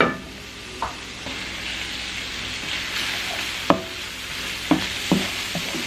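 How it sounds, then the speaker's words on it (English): Seasoned peppers sizzle steadily in a hot pan for a Philly cheesesteak, with a few sharp scrapes and clacks of a utensil stirring them around. "Now I'm just going to stir that around."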